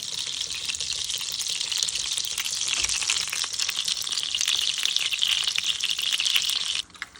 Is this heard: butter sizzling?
yes